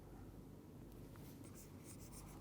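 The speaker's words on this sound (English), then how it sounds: "I am going to write only the outcomes here." A hand writes outcomes with a pen or chalk, making faint scratchy strokes in short bursts over a steady low background hum.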